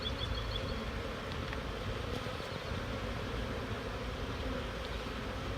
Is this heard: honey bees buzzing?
yes